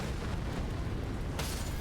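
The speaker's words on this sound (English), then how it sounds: "That's a very big explosion." A large explosion in a video game: a sustained, rumbling blast that swells with a sharp burst of noise near the end, loud and with no talking over it.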